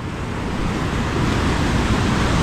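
Steady roar of surf washing in continuously, broad and close, with a wind-like rush and no pauses throughout.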